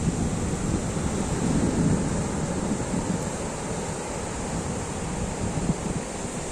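Ocean surf rolling onto a long sandy village beach, a steady broad wash of waves with wind noise, continuous and fairly loud with no talk.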